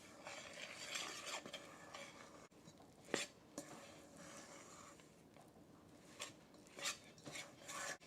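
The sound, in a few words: spoon stirring blueberry mixture into flour and nuts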